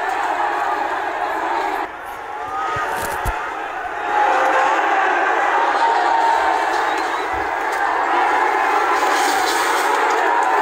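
A large, angry crowd outside a gurdwara in Nanded attacks a police team. It makes a dense, continuous roar of many shouting voices, loud and unbroken, with a few sharp knocks and bangs.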